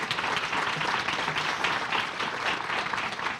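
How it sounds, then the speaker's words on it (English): Audience applause for panel presenters at a women's commission event, a steady wash of many hands clapping at moderate volume throughout, with no voices over it. "I think we should give them another round of applause."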